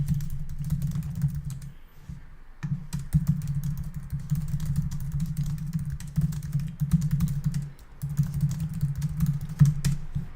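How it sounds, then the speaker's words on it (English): Keys clatter steadily on a computer keyboard as search keywords are typed, a brisk run of close clicks with two short pauses and a low hum underneath. "I'm going to type in a bunch of random keywords to do with weight loss."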